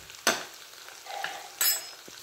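Green chillies and asafoetida hit hot oil for mustard-leaf saag, giving two sharp sizzling bursts with a faint fizz between them, close and fairly loud against a quiet background.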